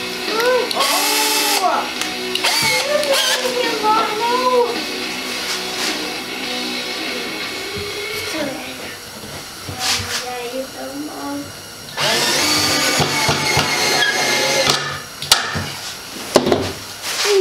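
A power drill drives two-inch wood screws into wooden boards while a firework display rack is built, its whirring bursts mixed with clunks of handling and someone talking over much of it.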